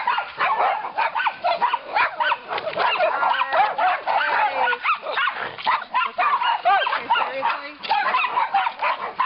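Neighbor's dogs barking repeatedly at close range, their yips and woofs mixed with a voice talking throughout, with steady loud activity and no real pauses.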